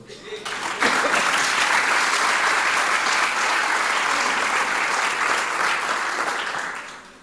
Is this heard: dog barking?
no